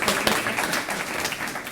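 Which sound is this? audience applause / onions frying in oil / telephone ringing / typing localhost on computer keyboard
audience applause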